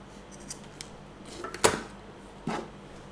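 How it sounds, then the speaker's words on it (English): Scissors snip through excess fabric on a two-tone fabric-covered headband bow, a few faint crisp cuts and then one louder sharp snip, close by and quiet, with no talking. "After this, we simply cut the excess fabric"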